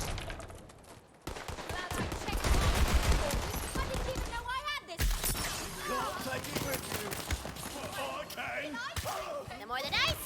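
Gunfire and a booming cannon blast in Borderlands 3 as a shot barrel ignites the cannon and blows open a gate, with dense rapid shots, a sharp burst midway, and game noise continuing loudly.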